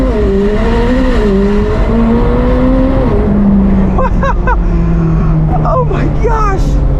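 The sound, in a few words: McLaren 765LT Spider launch control full throttle acceleration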